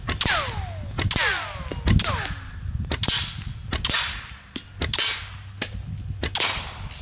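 A Taipan Slash .22 semi-auto PCP air rifle fires in quick succession, roughly a dozen sharp, cracking shots at an uneven rhythm, close and loud, with metallic ringing after the early shots.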